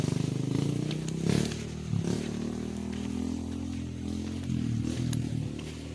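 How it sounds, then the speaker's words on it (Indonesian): A motorcycle engine drones steadily on a rural dirt road on the way to a waterfall in West Java, a continuous low hum with small surges and clatter, fairly close, with no talking. "Nah dari sini saya mendengar ada suara motor ya teman-teman ya."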